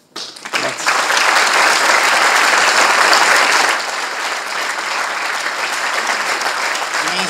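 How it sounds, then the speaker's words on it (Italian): Loud audience applause after a talk about Formula One driver Ayrton Senna, swelling quickly and holding strong before easing to a steady, slightly softer clapping. "Questi applausi dopo un'ora e mezza passata sono veramente un complimento per noi"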